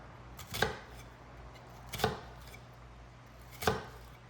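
Knife slicing straight down through an onion on a cutting board to make thin, even slices for pico de gallo; three crisp chops spaced about a second and a half apart, close and fairly quiet, with no talking.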